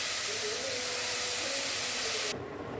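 Water poured onto cooking rice in a hot pot sets off a loud, close, sustained steamy hiss that drops sharply in intensity just before the end.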